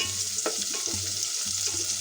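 Onions with bay leaf, large cardamom, cloves and black peppercorns frying in a pan: a continuous near sizzle with soft rhythmic stirring scrapes and clicks throughout, no talk.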